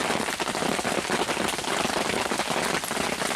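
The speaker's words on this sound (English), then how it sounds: "Hailstorm. It is coming down. Holy smoke. There's a lot of hail." Dense hail, dime to quarter sized, drumming hard and nonstop on surfaces nearby during an Idaho bear hunting trip, a loud steady clatter alone without voices.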